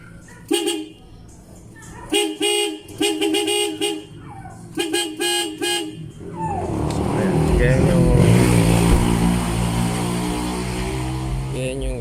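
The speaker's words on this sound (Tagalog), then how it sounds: "dadagdag pa tayo ng isa pang horn test natin noong stock lang" A stock car horn honks in a series of short, loud blasts, then an engine revs steadily and loudly up close.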